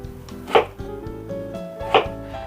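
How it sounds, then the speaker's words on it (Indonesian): Two sharp knife strikes against a cutting board, about a second and a half apart, as potatoes are chopped into cubes for a big batch of sambal goreng kentang; close and crisp, with no talking. "Kentangnya saya potong-potong dulu semuanya ya."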